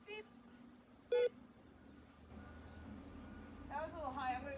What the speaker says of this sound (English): the e-collar sounds a lot like a tap. Beep, beep, beep, sit.